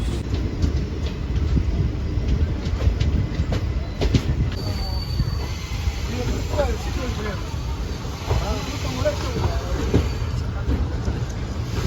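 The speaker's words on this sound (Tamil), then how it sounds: "train number 20606ங்க, Senthur super fast எக்ஸ்பிரஸ்ங்க" Train 20606, the Chendur Superfast Express, runs on the rails between Tiruchendur and Chennai Egmore, giving a loud continuous rumble with wheel clatter and occasional squeals heard from on board, while people talk over it.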